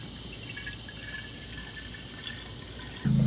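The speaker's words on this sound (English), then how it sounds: "I'm gonna fill the tank, run the pump, get all the air out of the system" Water fills the cooling tank of a water-cooled Sotion GTS35 mid-drive e-bike motor, a steady low trickle and rush, joined near the end by the louder, sudden hum of the circulation pump starting.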